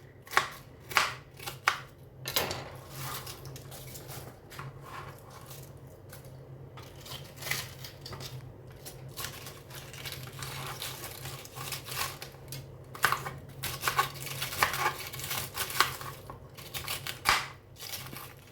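Fresh cabbage being finely chopped with a knife for homemade pickle, irregular crisp crunchy cuts and scrapes in quick clusters, close and fairly faint, with no talking.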